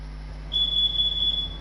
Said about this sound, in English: we've got a fire alarm somewhere